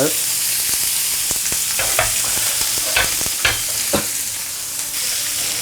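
Steak searing in a hot pan with butter, rosemary, garlic, cherry tomatoes and asparagus, a loud, bright continuous sizzle. Repeated spoon-basting splashes and clinks rise over it, with no talk.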